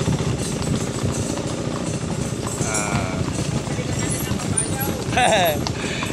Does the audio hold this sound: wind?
no